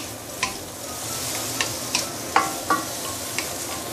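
King oyster mushrooms are stir-fried in a hot, smoking pan, with a steady crackling sizzle and a series of distinct spatula taps and scrapes at irregular intervals. Nobody speaks.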